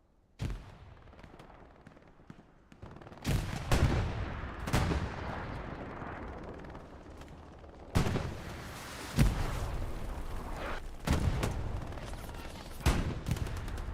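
Gunfire and artillery-like blasts from a Hell Let Loose World War II battle, with a machine gun firing in sharp bursts among repeated loud impacts over a constant battlefield rumble.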